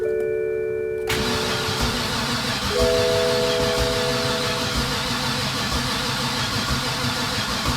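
A flooded BMW E60 528xi engine cranks steadily after a brief pause, a close rhythmic starter churn that keeps turning without catching, with no talk.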